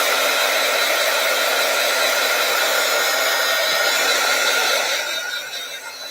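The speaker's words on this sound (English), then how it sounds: "So heat gun alert." A heat gun blows hot air to dry a painted art journal card, making a loud, steady whooshing roar up close that holds evenly and then eases slightly toward the end.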